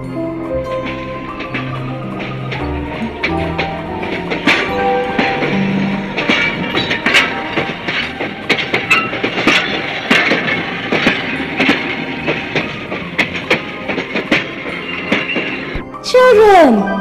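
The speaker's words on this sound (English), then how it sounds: "over the rivers, here come the trains." A train rumbles along nearby with rapid clicking and clanking of wheels over rail joints, steady and loud, ending in a sharp burst of noise.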